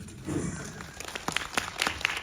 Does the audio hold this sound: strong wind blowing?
no